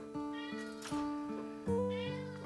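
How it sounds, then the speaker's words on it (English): A house cat meows at close range, three or four drawn-out, tonal cries in quick succession, loud and clear with no talking. "Why are you meowing at me?"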